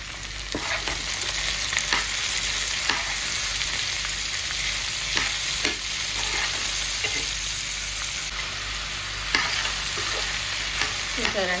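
Bottle gourd pieces stir-fry with onion and garlic in a pan, a constant loud sizzle broken by regular scraping strokes of the spatula, close up and without talk.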